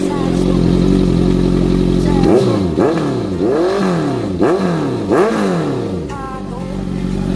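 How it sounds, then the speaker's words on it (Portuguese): A vehicle's aftermarket exhaust, loud and close, idling with a deep rumble, then blipped through a run of about five quick revs that rise and fall, before settling back to idle. "Quer dar uma roncada aí, Lé?"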